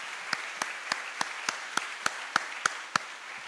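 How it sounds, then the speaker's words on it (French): Slow, evenly spaced single claps at a university lecture hall in Réunion, about ten distinct sharp hand claps at a steady rhythm, fairly faint over quiet room tone, like one person clapping alone. "On aurait pu les applaudir"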